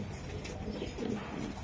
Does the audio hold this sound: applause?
no